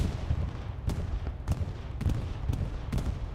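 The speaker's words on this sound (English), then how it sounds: "Bombing run coming in though." Bombing-run explosions in the Hell Let Loose battlefield: a steady rumble punctuated by four or five sharp, evenly spaced blasts, moderately loud and without talk.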